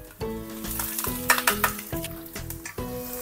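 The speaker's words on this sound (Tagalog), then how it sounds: "Kapag mainit na yung mantika, lagyan natin tong luya, 6 cloves na bawang, minced garlic, at saka itong red and white onion natin" Ginger, six cloves of minced garlic and red and white onions sauté in hot oil for a batchoy soup, a steady close sizzle broken by repeated clattering stirs and scrapes.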